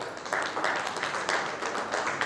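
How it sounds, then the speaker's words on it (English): Steady applause from a medical seminar audience, a dense continuous patter of many hands clapping that holds at an even level throughout. "with a huge round of applause, please welcome our moderator"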